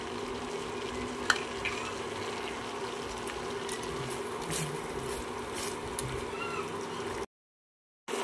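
Two slit green chillies sizzle in spice masala over a low flame for butter paneer, a steady soft frying hiss with occasional light stirring clicks, then a brief dropout near the end.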